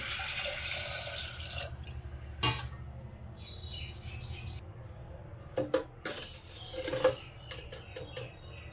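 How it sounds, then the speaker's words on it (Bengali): Water poured into a pressure cooker holding soaked lentils gives a steady, close splashing stream with a few sharp clinks and drips, and no voices. "আমি ডালটা প্রেসার কুকারে দিয়ে দিয়েছি, দিয়ে দিলাম জল"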